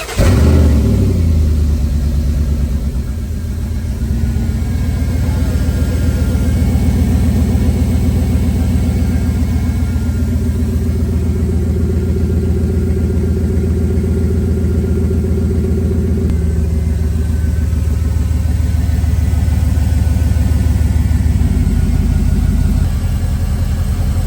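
A truck engine cranks and catches, then settles into a steady, close, loud rumbling run that holds for about twenty seconds with no talking.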